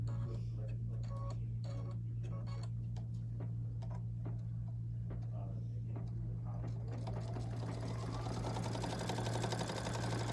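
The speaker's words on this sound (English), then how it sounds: "we are going to run a basting stitch 1/4 of an inch from one long edge" A sewing machine runs a quarter-inch basting stitch along the long edge of a pillow panel, ticking steadily and close for about eight seconds before the pace quickens, over a constant low hum, while someone talks.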